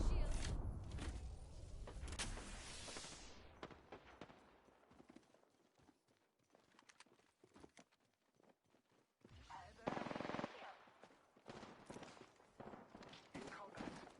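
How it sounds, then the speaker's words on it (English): Video game gunfire crackles in scattered bursts and thumps, loud at first, then fading and rising again amid other game effects and a voice speaking now and then. "Spam bots are shooting at me. Taking fire."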